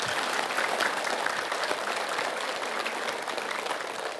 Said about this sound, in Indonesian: Tepuk tangan untuk Murni Chania